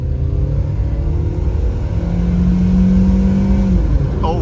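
A Toyota Camry launched hard with foot to the floor, its engine droning loud and steady as revs climb into a rising tonal strain near the end, with no talk over it.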